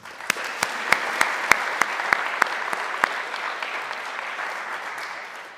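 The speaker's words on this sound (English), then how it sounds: "Let's have a round of applause and appreciation of their efforts" Audience applause at a college alumni awards ceremony, a steady wash of many hands clapping with a few sharp, close claps standing out, holding level then easing slightly toward the end.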